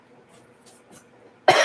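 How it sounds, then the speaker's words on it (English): A single sharp cough bursts out near the end, loud and close, after a stretch of near silence. "That's the reason I'm coughing"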